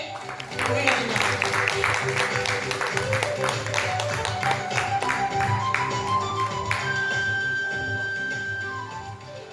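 Clapping rises from the audience at a theatre festival's opening ceremony, a steady patter of many hands with a faint tone and music-like sound beneath it.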